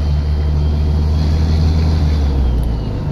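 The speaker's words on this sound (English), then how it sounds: "if you're able to hear the sound of the truck itself, it kind of sounds like a manual now" A loud truck engine rumbles steadily with a deep, throaty exhaust drone, close by and continuous, with no voices.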